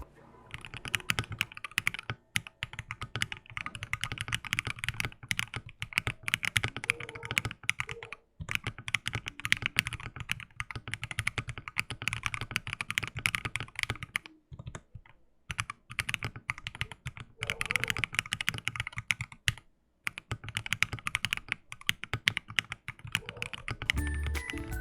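Steady typing on an Akko Mod 007v2 mechanical keyboard in stock form with all its foams and ASA-profile PBT keycaps, a continuous close run of keystrokes with only brief pauses.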